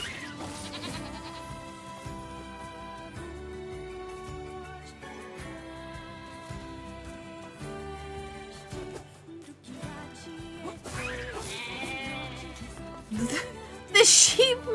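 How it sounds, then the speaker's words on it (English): Sheep bleat in the video game NieR Replicant, with repeated strained, scream-like cries heard over continuous game music, plus a louder burst near the end. "The sheep make such horrible noises."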